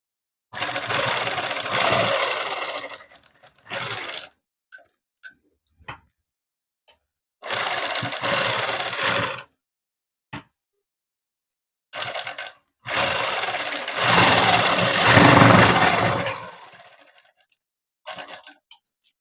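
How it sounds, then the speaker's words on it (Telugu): Sewing machine stitching seams on a dress for a six- to seven-year-old child, running in several loud bursts of whirring stitches separated by pauses, with the longest run near the end. "ఇలా అనేది కుట్టు వేసేసుకోవాలి."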